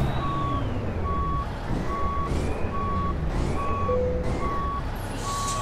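A heavy truck in American Truck Simulator backs up, its reversing alarm sounding steady evenly spaced beeps over a loud constant engine rumble, with a brief extra tone near the end.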